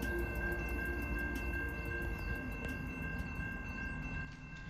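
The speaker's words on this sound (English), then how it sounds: "Our first train was CN westbound L501 coming out of Garnet, Ontario to Sarnia with a very nice leader being an SD70i" A CN westbound freight train led by an SD70i locomotive rolls past on a rail line in Ontario, a steady loud rumble with tonal whine and clatter that eases slightly near the end.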